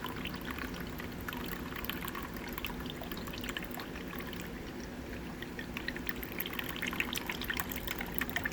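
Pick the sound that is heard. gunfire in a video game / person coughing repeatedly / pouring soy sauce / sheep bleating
pouring soy sauce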